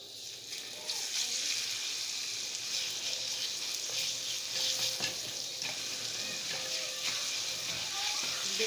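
Ground moong dal fries in ghee with a steady, dense sizzle and continual stirring scrapes, close and even throughout with no voices.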